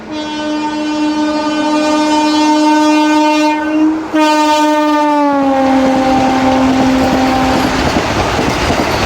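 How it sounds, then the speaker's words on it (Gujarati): A Vande Bharat express passes a railway crossing, sounding a loud sustained multi-tone horn that breaks briefly and resumes, then drops in pitch as the train rushes past with a heavy rumbling roar. "હજી ઇન્ટરસિટી પૂરી લૂપ પણ નથી થઈ ત્યાં વંદે ભારત આવી ગઈ."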